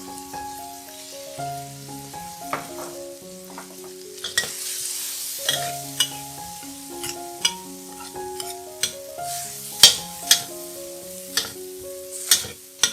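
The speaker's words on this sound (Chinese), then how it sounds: "少许的酱油 ，1汤匙的福建面酱，炒一炒。" Noodles stir-fried with soy sauce and Fujian noodle paste in a wok, a soft sizzle under repeated scraping stirs and sharp utensil clacks, all set beneath steady instrumental background music.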